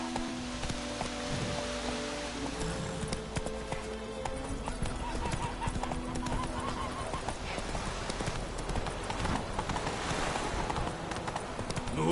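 Roach, the horse in The Witcher video game, gallops in a fast, steady clip-clop of hooves with an occasional whinny, heard over game ambience and rain.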